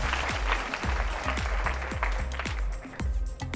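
An audience at a fashion competition show applauds candidate number 28, a dense, lively burst of clapping layered over a pulsing low beat of background music.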